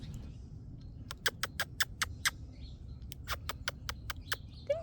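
A cowbird calls close by in a garden with two bursts of sharp, rapid clicking chips, each a quick run of about eight to ten notes, over a faint low outdoor hum.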